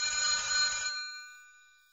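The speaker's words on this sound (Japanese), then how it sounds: "電話に触ろうとした瞬間、いきなり電話が鳴った。" An old landline telephone rings suddenly in a ghost story sound effect, a bright trilling electronic ring that stops after about a second, leaving a fading tonal ring-out.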